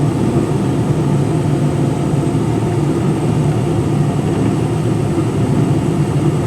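A Case 544K wheel loader drives forward into its bucket, its heavy diesel engine droning steadily and loudly throughout with no talk.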